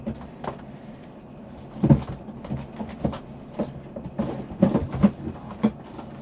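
Someone opens a drawer and rummages through it, making scattered close clicks, knocks and rattles at an uneven pace with no talk.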